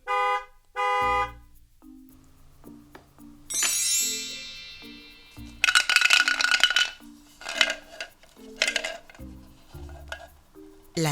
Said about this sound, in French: K comme un klaxon.